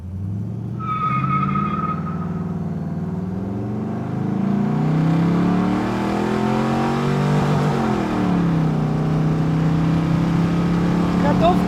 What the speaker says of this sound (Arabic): أسوي لكم تسارع.